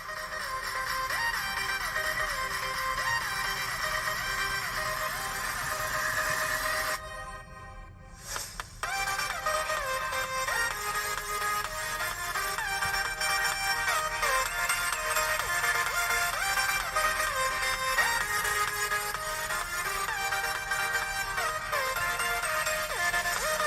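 A song with layered melody plays steadily through the small speakers of a Lenovo IdeaPad 1 15IAU7 laptop, briefly cutting out partway before resuming at the same level.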